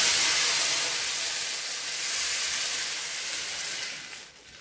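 Blended sauce hitting hot oil in a pan sets off a loud, steady sizzle and hiss close by, holding strong for several seconds before easing slightly at the end, with no talking over it.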